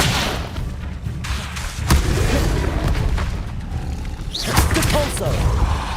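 Spell explosions go off in the Hogwarts Legacy video game, a few booming impacts with rumbling tails and mechanical creaks mixed between them, all moderately loud.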